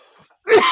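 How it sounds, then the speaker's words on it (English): A short burst of harsh coughing from a person who has just been vaping, loud and close, starting after a moment of near silence. "Why are you coughing so?"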